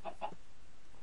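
Minecraft chickens clucking quietly, two or three short soft clucks near the start, then near silence.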